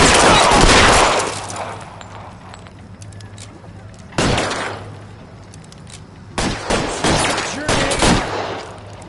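Gunfire in the LA Noire VR video game, loud bursts of rapid shots that stop and start, with quieter gaps between volleys.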